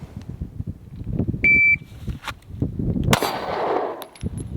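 A shot timer beeps, then a Glock 43X pistol with an ARC Division Reactor slide fires a single sharp shot at an A-zone target from 7 yards, with a ringing decay.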